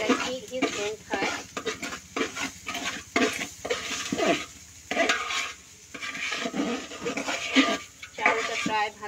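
Rice fries in soybean oil and ghee for chicken pilaf while a utensil scrapes and stirs the pan in a quick, repeated rhythm, with a soft sizzle underneath and a voice speaking briefly.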